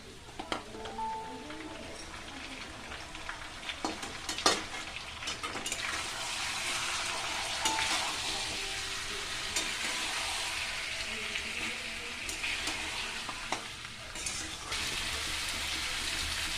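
Tomato paste sizzles in a pan of oil for vegetarian aloo dum while a spoon stirs it, giving a steady close frying hiss broken by sharp scraping clicks throughout.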